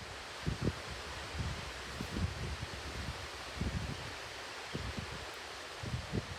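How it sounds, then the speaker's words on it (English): Wind picking up outdoors, gusting past the microphone with a steady low rumble and leafy rustling that swells in brief bursts, no voices present. "Now the wind is starting to pick up here."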